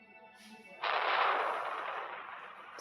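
Explosion in the space destruction game Solar Smash: a sudden broad burst that holds as a dense roar and slowly fades over a couple of seconds, heard alone without talk.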